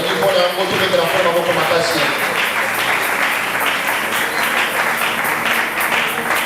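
A church congregation applauds and cheers, dense continuous clapping with crowd voices mixed in throughout.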